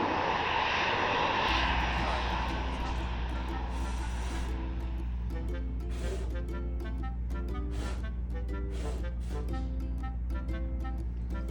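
Aircraft engine near a taxiway during runway construction at CLT International Airport, starting with a broad rushing roar that shifts into a steady, loud low drone with rhythmic pulsing tones, with no talking.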